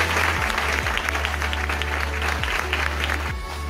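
Audience applause at a fashion show presentation of a 2017 collection in a hotel, steady dense clapping over a low hum with faint voices, easing off near the end.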